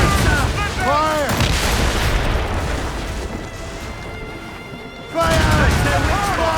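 Ship cannons fire a broadside in the naval game Assassin's Creed Rogue, heavy booming blasts rolling over a dense roar of battle noise at close range, with shouted voices and crew chatter on top.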